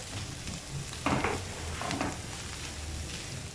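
Creamy white-sauce chicken pasta with mixed herbs sautés in a pan over a low flame. A steady, soft sizzle runs throughout, broken by two short stirring scrapes. No one speaks.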